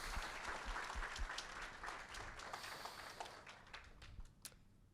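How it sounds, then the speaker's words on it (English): A crowd at a graduation gala at Fort Canning applauds the parents, a fairly faint, dense patter of clapping that gradually tapers off. "So a big round of applause to those parents."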